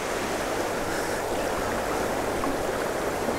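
A cold, spring-fed trout creek rushes in a constant, full wash of flowing water close by, steady throughout with no voices.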